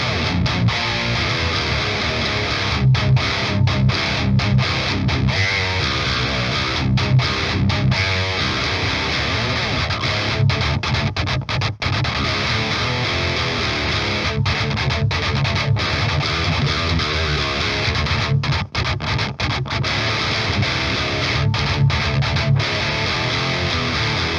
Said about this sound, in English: it's a very tight, kind of percussive metal amp